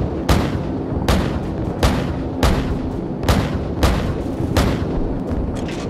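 An AC-130 gunship in Call of Duty 4 pounds enemies below with heavy cannon fire: loud booming shots at a regular rhythm of about one every half second to second, each followed by a short rumbling decay.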